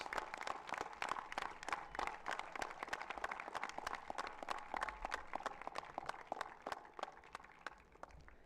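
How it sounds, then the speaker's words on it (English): A crowd applauding at an opening ceremony, steady dense clapping from many hands, fairly distant and continuous throughout. "may we have a huge round of applause for Mr. Harpreet Singh"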